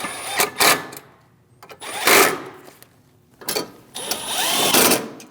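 Power tool snugging down bolts on a 2016-2025 Chevrolet Malibu during AC condenser work, three loud, close bursts of whirring driver with short pauses between, the last burst longest.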